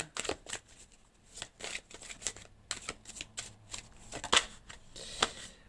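Oracle cards are shuffled by hand in a quiet room, a run of close, crisp riffling bursts and soft slaps at an uneven rhythm, with a sharper flick near the end as a card is turned over.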